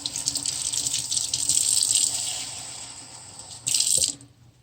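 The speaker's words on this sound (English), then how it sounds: "Then we'll add cold water" Cold tap water streams into a jar of sprouting seeds, a steady splashing pour that eases off, then a second short burst before it stops.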